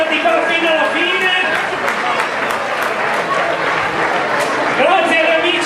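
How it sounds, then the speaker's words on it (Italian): Applause from spectators at the end of a football match, broad steady clapping mixed with crowd noise and voices talking over it throughout. "applauso, va a voi"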